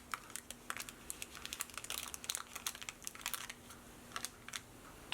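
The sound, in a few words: wax paper being wrapped around a brush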